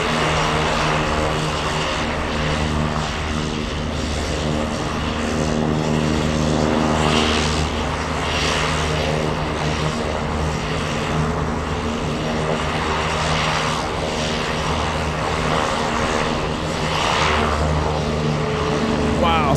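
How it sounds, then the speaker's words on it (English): UPS Boeing 747 cargo jet arriving from Narita into Anchorage, a loud sustained engine roar with droning tones passing close by for the whole stretch, with a voice talking over it at times. "We have UPS flying in from Narita. That's going to be passing right next to us."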